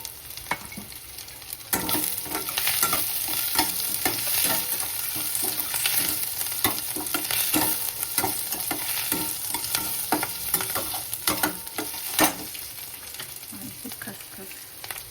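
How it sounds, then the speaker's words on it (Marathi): Garlic frying in hot oil in a pan for cashew curry, a steady dense sizzle with repeated scraping and stirring clatters of a spoon throughout, close and continuous with no talking. "याच्यामध्ये मी लसण घालून देते आता."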